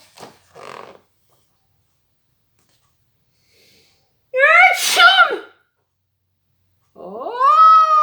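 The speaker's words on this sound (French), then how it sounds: "c'est un énorme hippopotame qui a éternué." A huge hippopotamus sneezing as a cartoon sound effect, delivered as two short breathy bursts followed by a loud, drawn-out, squealing vocal sneeze, with another tonal wail after a pause, set against silence.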